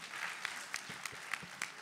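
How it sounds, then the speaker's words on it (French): Audience applause at an IT expert conference, a steady wash of many hands clapping with a few sharper claps standing out, moderately loud and filling the short stretch without talk. "Bravo, on l'applaudit pour"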